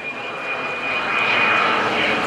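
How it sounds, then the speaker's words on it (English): A Harrier jet at a Naval Air Station Oceana airshow roars steadily at a distance, its engine noise swelling slightly and carrying a thin high whine as it readies to hover, with no voices. "What we're going to see in just a couple of moments on the Harrier is the ability of the aircraft to hover."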